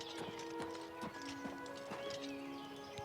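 Horse in the video game The Elder Scrolls IV: Oblivion Remaster, rhythmic clip-clop of hooves with a whinnying neigh, fairly faint over steady tonal background music.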